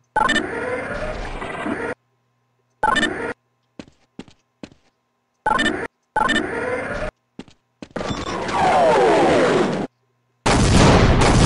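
Missiles blasting a wall open in Half-Life, loud bursts of impact and explosion separated by silent gaps, with shorter thuds between and a long roaring blast near the end, no voices.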